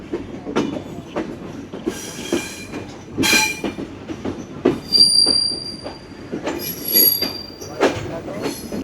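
A passenger train on the Kolkata to Dhaka run pulls into Jessore junction station in Bangladesh, its wheels letting out shrill, wavering squeals over a steady rumble and repeated sharp clicks of wheels crossing rail joints, close and loud.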